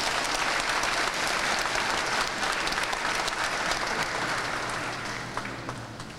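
Sustained applause from a church congregation fills the space, a dense steady clatter of many hands that stays strong and tapers slightly toward the end, with no speech over it.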